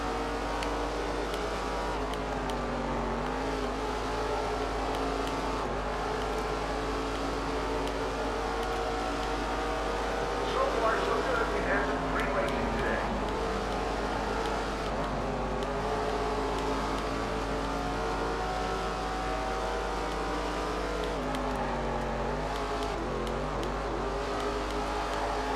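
Race car engine in the SRX racing video game, a continuous droning roar with shifting pitch as the car accelerates and turns, steady and loud throughout with no talk over it.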